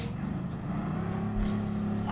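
A Bugatti Veyron engine in a racing video game drones steadily at moderate volume, a buzzing, rumbling note with a slight rise near the end.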